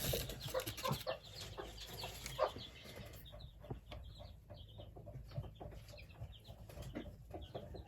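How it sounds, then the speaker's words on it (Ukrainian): Chinese silkie chickens cluck and chatter close by in short bursts, with scattered squawks over a steady background hum. "у мене бешені кури стали"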